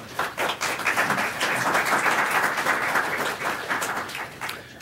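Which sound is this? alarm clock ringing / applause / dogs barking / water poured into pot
applause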